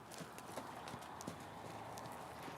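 A horse trots in a steady two-beat rhythm, its hooves clip-clopping faintly and fairly evenly on the ground, with no other prominent sounds.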